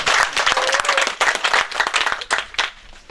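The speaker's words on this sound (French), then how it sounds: "que je vous prie d'applaudir avant que je termine" An audience at a festival speech applauds, dense and lively clapping that swells and fades in short waves over a few seconds, close and fairly loud, with no talking over it.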